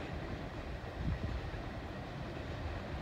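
Low, steady rumble of a heavy CSX freight train loaded with coke rolling past nearby over a railroad diamond, a dense broadband roar with a slight swell midway and no voices.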